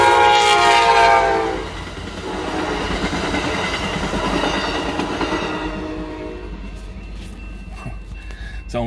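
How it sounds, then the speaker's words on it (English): Passenger train passing close by near the rail tracks at Alviso: a loud horn blast at the start, then a rumble with rhythmic wheel clatter that fades as the train moves away. "Only used for passenger trains now."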